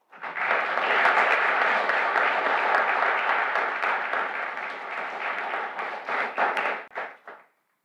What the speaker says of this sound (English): I think they deserve an applause for that one.